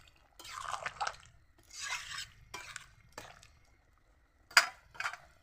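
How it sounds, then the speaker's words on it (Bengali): Fried onions go into a pot of chicken curry and are stirred through with a utensil, producing several close scraping, shuffling strokes against the pot with short pauses and a couple of sharper clinks near the end. "তো আমি এখন যে পেঁয়াজটা ভেজে রাখছিলাম সে পেঁয়াজটা দিয়ে দিলাম, একটু নেড়ে চেড়ে দেবো।"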